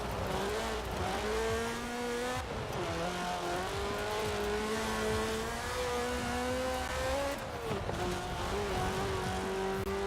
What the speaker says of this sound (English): Now this car's exhaust is very interesting.